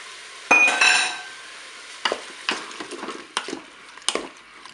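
Tomatoes and pepper strips tumble into a Cookeo pot with a loud clattering splash, then a soft sizzle and several sharp spoon scrapes and clinks against the pot follow at uneven intervals.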